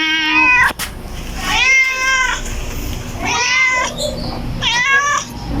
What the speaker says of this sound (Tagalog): Ito ang aming pokpok na pusa.